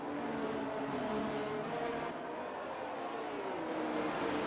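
Formula 1 race cars in the F1 22 game on a Brazil circuit, a steady engine drone of several cars at speed under race commentary, pitch gently shifting as they run close together.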